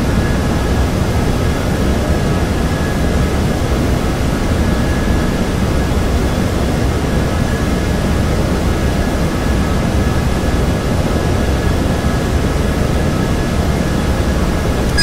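Asiana A320 engines at takeoff in a flight simulator, a steady, loud, dense roar that holds unchanged throughout with no voices over it.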